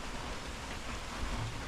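Steady, faint hiss of rain falling outside an Appalachian Trail shelter in Maryland, an even wash of sound with no talking.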